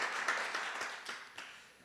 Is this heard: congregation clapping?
yes